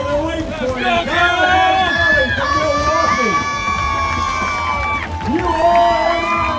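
A crowd cheers and yells at the Ironman Wisconsin triathlon finish line, loud and continuous, with shouting voices and sustained whoops layered over a dense background of spectator noise.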